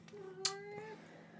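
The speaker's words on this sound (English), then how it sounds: "This is my cat." A pet cat named Egon gives a single drawn-out meow indoors, close and fairly soft, with a faint click near its start.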